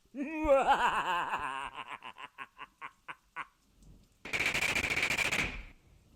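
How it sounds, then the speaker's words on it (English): A hot glue gun fires a rapid burst of gunfire-like pops that slows into evenly spaced single shots, then a loud hissing blast ends abruptly. "Do you like the gunshot effect?"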